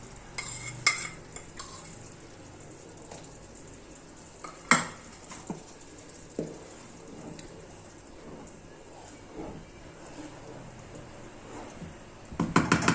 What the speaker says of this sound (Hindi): और इसमें वो तड़का लगाना है जीरे का